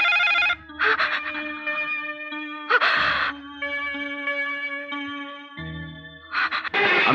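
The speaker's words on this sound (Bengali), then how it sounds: "আমি জানি সাগরিকা, ফোন তুমি তুলেছ" A telephone rings in loud, repeated electronic bursts during a movie scene, separated by a sustained musical tone.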